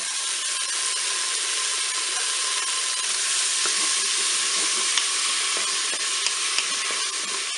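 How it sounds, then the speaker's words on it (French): Onions browning in rendered chorizo fat inside a Cookeo multicooker give off a steady, close sizzle with faint crackles and occasional stirring clicks. No one speaks. "je vais utiliser en fait eh bien, la graisse du chorizo pour faire dorer aussi les oignons."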